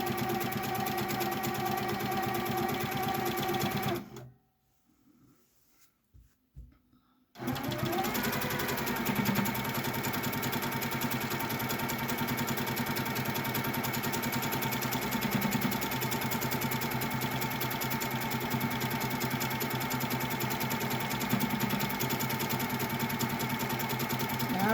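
A sewing machine stitches a scrap quilt with a steady, fast whirring hum that runs loud and continuous, then briefly stops before starting up again.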